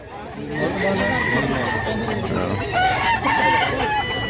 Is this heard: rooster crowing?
yes